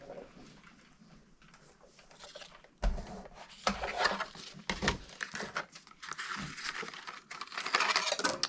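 Scissors snipping through a paper template for layered zinnia papercraft flowers, close by: irregular crisp cuts and rustling paper handling, getting louder and busier toward the end.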